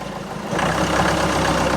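A Ford Transit Mk6 van engine idles roughly and unevenly with the bonnet open, a steady mid-pitched rumble that swells up after a brief quieter moment and holds at close range with no talking.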